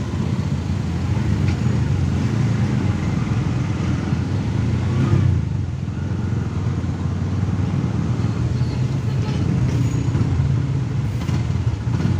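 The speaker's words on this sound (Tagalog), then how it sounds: "medyo traffic dito kasi intersection eh." Road traffic at an intersection makes a continuous low rumble of passing vehicle engines, steady and fairly loud, with no one talking.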